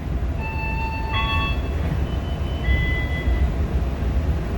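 An Indonesian passenger train rumbles steadily with a broad low roar, and brief high tonal squeals or whistles ring out early on and again midway.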